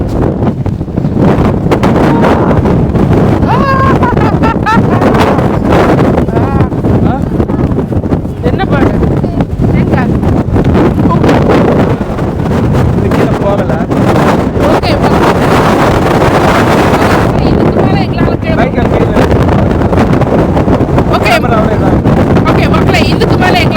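Strong wind roars across the microphone on a hilltop, loud buffeting gusts that persist almost without pause, with people talking and shouting over it.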